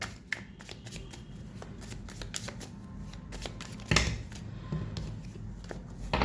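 Tarot cards are shuffled and handled close up, a soft run of rapid riffling flicks and papery slaps with a few louder snaps, quiet and uneven throughout with no talking.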